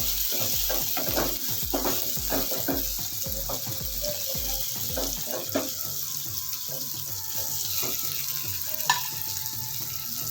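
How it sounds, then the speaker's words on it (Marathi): Vegetables for veg pulao sautéed on a high flame, a faint sizzle under a quick run of rhythmic scraping stirs that stops halfway, followed by quieter scattered clinks and running water. "हे आपल्याला हाय फ्लेमवरच परतून घ्यायचं आहे"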